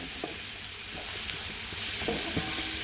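Chicken masala sizzles steadily in oil in a pan while being sautéed, with a few light scrapes and knocks of the stirring spoon over the continuous frying hiss.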